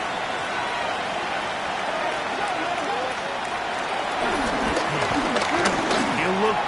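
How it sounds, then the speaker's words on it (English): Football stadium crowd roaring steadily as a dense, loud wash of cheering and noise, building slightly toward the end, at a Wolves versus Panthers game on third down. "And the crowd a major factor now as we get to 3rd down."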